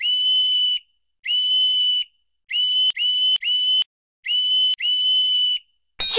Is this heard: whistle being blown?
yes